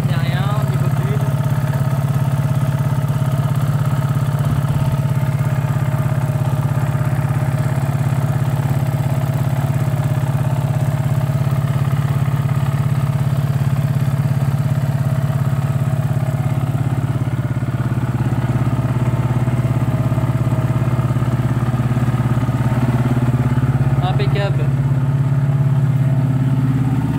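TGB Blade 550 quad engine running at a steady idle after starting, a loud continuous low rumble close by with a brief clattering rev near the end.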